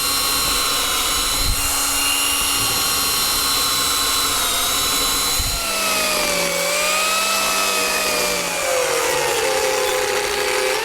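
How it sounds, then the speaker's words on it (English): A power drill whines steadily with shifting pitch, sliding down and up as the bit bores holes into solid wood, continuous and close with no talking. "I'll drill a series of holes"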